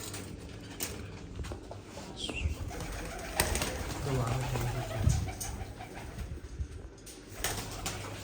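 Loft pigeons, given liver medicine and being let out, coo softly in low throaty bursts amid light fluttering and scattered knocks, with people talking nearby.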